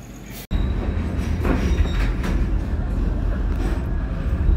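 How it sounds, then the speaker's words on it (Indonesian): The KA Bima passenger train rolls along the rails in Indonesia with a steady, close rumble and faint wheel clatter after a sudden start, continuous for several seconds. "Kereta api Bima persiapan masuk stasiun Bumi Ayu."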